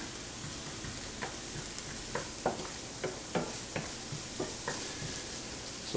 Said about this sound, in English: They'll be sizzling a little bit.